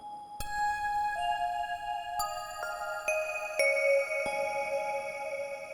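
Yamaha TX802 FM synthesizer playing its Milky Way preset performance patch, with vintage-style reverb: bright bell-like tones entering one after another in a slow sequence, layered and sustained, clear and alone with no talking.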